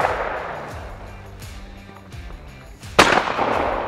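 A shotgun fires once at a rabbit clay target rolling along the ground on a shooting ground, a sharp loud crack near the end with a short tail after it, following a stretch of quiet background noise.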